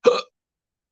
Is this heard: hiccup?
yes